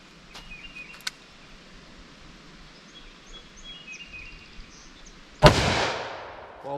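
A single sharp .45 ACP gunshot from a short-barrel handgun firing Federal Train + Protect ammunition, loud and close, with a decaying echo after a quiet outdoor lull.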